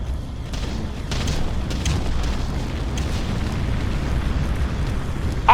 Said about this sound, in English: Area targeted for bombardment.